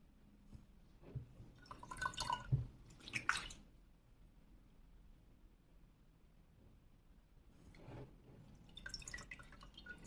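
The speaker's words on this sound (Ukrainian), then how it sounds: "Повністю занурив рукавицю у воду." A waterproof Dexshell Arendal winter biking glove, size XL, is plunged fully into water and moved around, giving a couple of bursts of sloshing and dripping splashes separated by a quiet stretch, fairly soft and close.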